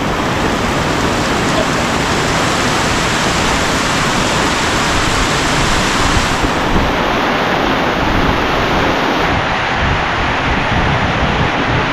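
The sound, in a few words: strong rushing stream water in the mountains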